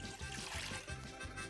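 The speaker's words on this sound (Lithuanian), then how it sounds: "Šitą vandenį dabar supilsiu į gilią keptuvę" Water poured from a jug into a deep frying pan, a soft, faint trickling pour with a low gurgling pulse, heard alone and fairly quiet.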